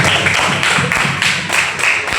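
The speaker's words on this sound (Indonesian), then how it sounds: "Tepuk tangan untuk kelompok 2" Classroom applause for the second student group after their presentation, a dense steady patter of many hands clapping continuously and close by, with no voices on top.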